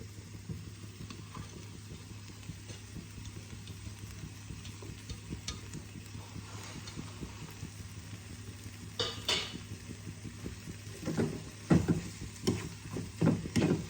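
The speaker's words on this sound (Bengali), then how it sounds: "ভালো করে একসাথে মিশিয়ে নেব।" Grated cheese and other ingredients mixed together in a bowl, a faint steady scraping and stirring with soft clinks of utensil against the bowl that grow louder and busier toward the end, no talk.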